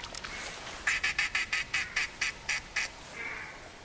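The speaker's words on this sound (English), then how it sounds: "Them ducks are flying pretty fast, but we did get some." A duck in theHunter video game quacks in a quick run of about ten evenly spaced, fairly loud calls, set against a low outdoor hiss with no talking.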